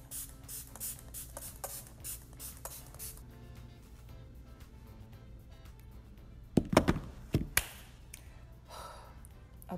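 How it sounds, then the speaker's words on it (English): Several quick, soft hissing spritzes of makeup setting spray in a rapid series, then a pause and a few louder, closer sprays with faint rustling in between. "I'm gonna spray some Fix Plus"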